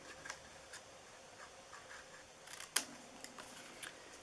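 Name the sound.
cutting paper for a treat box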